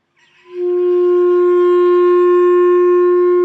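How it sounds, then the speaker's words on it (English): A clarinet with its mouthpiece attached plays one sustained note that swells in within half a second and then holds steady and clear, rich in overtones, close and alone. "And of course it makes a much nicer sound when it's attached to the entire instrument."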